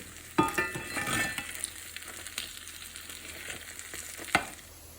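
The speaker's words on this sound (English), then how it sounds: "So, we're frying them up." Hoe cakes made from cornmeal batter sizzle and fry in a pan, a steady close crackle broken by a few sharp clinks and scrapes of a utensil against the pan.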